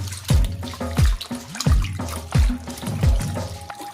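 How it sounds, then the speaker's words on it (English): Water splashing and gurgling as fish are rinsed in a kitchen, with a series of rhythmic pours or plunges recurring about every three-quarters of a second, close and fairly loud. "So I'm going to rinse them off in the salt water."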